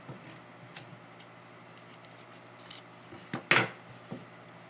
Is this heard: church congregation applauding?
no